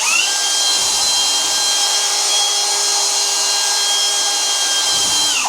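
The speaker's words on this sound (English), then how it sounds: "Just mixing it with this drill, which is easy to mix with." A power drill with a whisk attachment whirs steadily and loudly while mixing floor levelling compound in a bucket for a bathroom floor. The motor pitch holds even throughout, with faint scraping knocks near the start and end.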